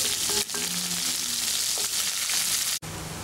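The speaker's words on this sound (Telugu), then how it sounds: "ఇప్పుడు ఉల్లిపాయ ముక్కలు వేసుకోవాలి వేసుకొని కాసంత కలర్ మారేటంత వరకు ఉల్లిపాయలను ఫ్రై చేయాలి" Onion pieces frying in a pan for gongura chicken curry: a loud, dense, continuous sizzle close up, with a brief clatter partway through and a sharp break near the end, no voices.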